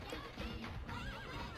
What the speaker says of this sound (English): From the horse-riding Kibapon to the shield-savvy Tatepon.